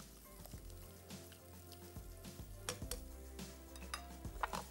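A mixture of meat is browned and stirred in a pan, with a soft continuous sizzle under repeated scraping and clinking strokes of a spoon, heard close but faint.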